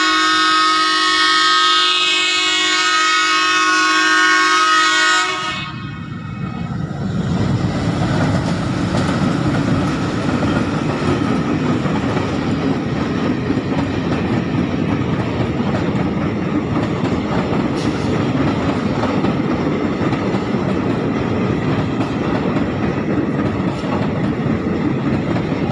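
A passenger train sounds a long, loud horn blast, then rolls past close by with a steady, heavy rumble and rhythmic clatter of wheels on the rails that continues unbroken to the end.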